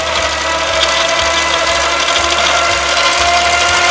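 Thomas & Friends Duplo toy trains ride a running treadmill, giving a loud, close mechanical whir with a rapid, repetitive rattling clatter like a sewing machine that holds steady throughout.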